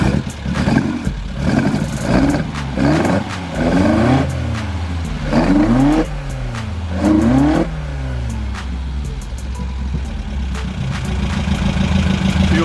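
A running 1981 Toyota Corolla 3TC 1.8 engine with twin 45 carburetors revs repeatedly, rising and falling in pitch about five times over a steady idle, then settles into a rough, clattering idle, close and loud with no talking.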